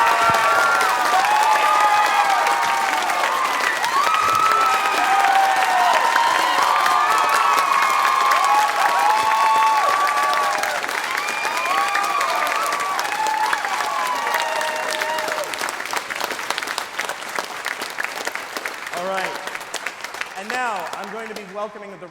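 Audience applause at a school spring choir concert, a sustained loud wash of clapping mixed with cheers and whoops, crowd voices rising over it and the clapping thinning toward the end.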